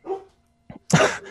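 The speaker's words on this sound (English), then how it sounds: "They're all barking" Several dogs bark close by: one short bark, a brief yip, then a louder, harsher bark, all in quick succession.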